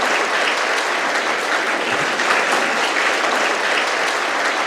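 Loud, dense applause from an audience welcoming a guest onto a stage at an academy event, sustained and even for several seconds without a break.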